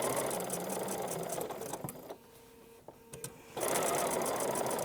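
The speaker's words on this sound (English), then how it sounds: "I'm going to stitch from one point to another" Sewing machine stitching quilt binding from one point to another, a fast steady mechanical whir that pauses briefly midway and then resumes, close and alone.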